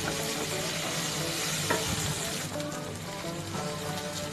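Curry leaves sautéing in a hot pan for a curry leaf thuvayal, a steady loud sizzle and crackle with a spoon scraping and stirring through it.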